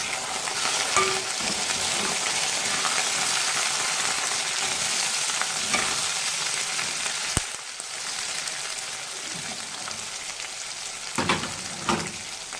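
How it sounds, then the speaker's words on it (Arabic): Chopped chicken liver and gizzards fry in a pan over browned onions, a steady loud broadband sizzle with occasional stirring scrapes and clicks, with no voices. "خلاص البصلايه اتحمرت، هنبتدي نحط الكبد والقوانص."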